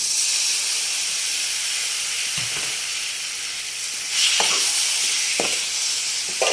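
Chopped, salted and wilted tamarind hits a hot pan with a constant hissing sizzle and steam, punctuated by a few sharp stirring knocks, close by and without any voices.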